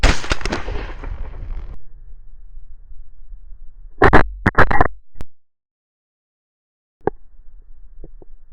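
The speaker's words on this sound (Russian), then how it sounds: "На этот раз стрельба удалась" Outdoor shotgun blasts during a November goose hunt in Germany: a loud opening blast fading into rumble, then a quick cluster of sharp shots, and a few fainter isolated pops later.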